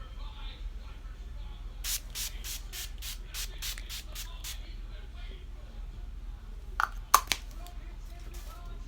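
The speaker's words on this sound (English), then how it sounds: "taking the Wet n Wild Photo Focus Setting Spray and just spray that all over our face" Wet n Wild Photo Focus setting spray pumped onto a face for makeup, about eight quick crisp hissing spritzes in a steady rhythm over quiet background, followed by a few faint handling sounds.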